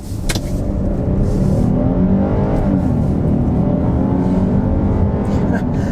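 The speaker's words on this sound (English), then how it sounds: "I'm going to go ahead and put it up into the sport mode, and let's turn down onto this back road here and see how it accelerates." A 2023 Kia Telluride SX Prestige X-Pro with a 3.8 liter naturally aspirated V6 accelerating in sport mode on a back road, a loud steady engine drone rising in pitch, heard from inside the cabin.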